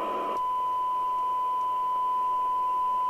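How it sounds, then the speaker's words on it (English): A steady pure electronic tone from a signal generator, heard through a Radiotechnic RT852 UK FM CB radio during alignment, hums continuously and evenly, with a brief burst of hiss at the start and faint background noise. "Set this so you can hear the signal generator"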